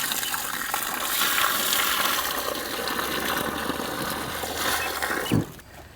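Irrigation water pours and gushes steadily through a coconut grove in Dindigul district, a dense continuous rush that holds for several seconds before dropping off sharply near the end.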